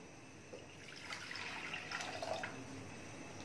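Water being poured for Sana Makki herbal tea, a soft splashing trickle building for a couple of seconds, quiet and close with no talking.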